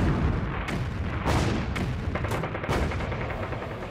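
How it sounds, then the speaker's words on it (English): 155mm field artillery guns fire repeatedly, with several heavy booms spaced over a few seconds above a dense rumbling battle background. "the 155mm guns of the 191st Field Artillery use withering fire to hold back the panzers"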